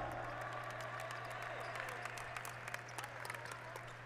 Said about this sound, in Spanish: Recibamos con un aplauso a Real Yaracuy y Bucaneros de La Guaira.